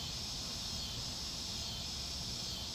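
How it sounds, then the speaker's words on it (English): A dense outdoor chorus of cicadas or similar insects at night, a continuous high buzzing hiss that stays even and fairly faint throughout, with no voices. "So there are a lot of cicadas or bugs, you hear going on outside tonight."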